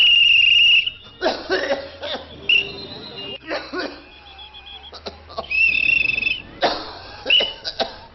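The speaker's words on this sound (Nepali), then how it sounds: "मान्छेले यसरी लगातार खोक्न थाल्नुमा कति भयो?" A person coughs repeatedly in harsh, close bursts, the fits coming one after another, with a thin high-pitched tone in the background.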